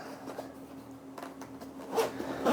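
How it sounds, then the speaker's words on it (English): A zipper being pulled shut around a multimeter carrying case, several short rasping strokes close by, with a faint steady hum behind them. "Close this up, zip it up."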